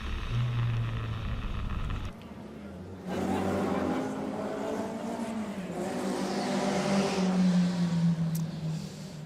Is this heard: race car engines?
yes